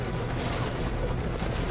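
Steady helicopter rotor and engine drone from Metal Gear Solid V: Ground Zeroes, loud and continuous, with no talking over it.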